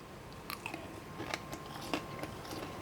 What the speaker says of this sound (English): the fish is crunchy on the outside